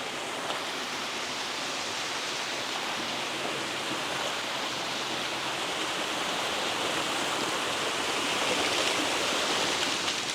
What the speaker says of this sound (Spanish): Pues tenemos que disfrutar esta cascadita pequeña que tenemos por aquí.